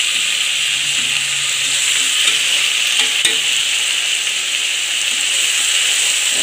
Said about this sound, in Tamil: பச்சை வாசனை போகிற அளவுக்கு நல்லா வதம் பண்ணலாம்